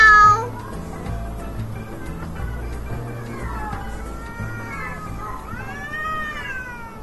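A cat meows several times in a radio advertisement for a studio, with drawn-out, wavering cries over a low background of music, moderately loud and close.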